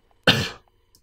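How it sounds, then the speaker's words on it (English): A single sharp cough from a person, loud and close, lasting a fraction of a second against near silence. "I was coughing."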